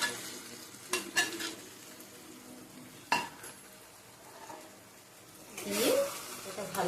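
Chicken paste frying in a pan, stirred with a utensil: a soft sizzle with several scraping, clattering strokes against the pan, a sharp one near the middle, and a swelling hiss toward the end, with quiet voice nearby.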